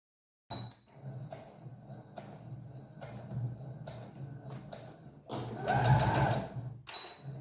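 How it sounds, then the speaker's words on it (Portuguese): A domestic sewing machine runs a seam along a fabric hem, short bursts of rapid mechanical stitching followed by a longer, louder run near the end, close up with no speech. "Agora nós vamos lá na máquina e vamos passar uma costura."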